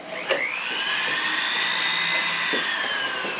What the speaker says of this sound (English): when I say it, I mean the flex shaft drill